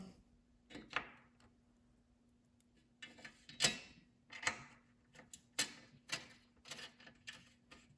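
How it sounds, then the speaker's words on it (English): A 5/32 Allen key snugging bolts down during a roof rack install gives off quiet, sharp metallic clicks and ticks at irregular intervals, with short pauses between bursts and no talking. "Take your 5/32 Allen, snug snug that up"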